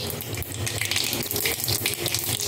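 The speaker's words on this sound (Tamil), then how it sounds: "இதை கடுகு போடுறேன்." Mustard seeds dropped into hot oil for tempering a vatha kuzhambu, giving a steady close crackling sizzle that continues evenly throughout, with no voices.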